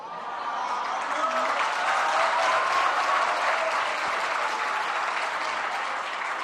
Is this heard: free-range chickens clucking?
no